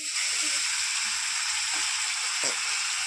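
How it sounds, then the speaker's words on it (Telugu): Whole fish, a large one, frying in hot oil in a pan over a high flame in an outdoor village kitchen: a steady, close, dense sizzle running throughout with a few faint knocks beneath. "చేపలు ఫ్రై చేసేటప్పుడు మంట ఇలా ఎక్కువగానే ఉంటే గిన్నె ఫాస్ట్గా అయితే ఫ్రై అయిపోతాయి చేపలు"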